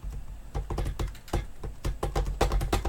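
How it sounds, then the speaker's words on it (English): Fingers drum on a desk near a computer keyboard, a close, quick series of uneven taps and knocks in irregular bursts, sounding much like typing. "I'm drumming on my keyboard. Or not my keyboard, my desk."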